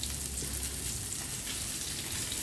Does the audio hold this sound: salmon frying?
yes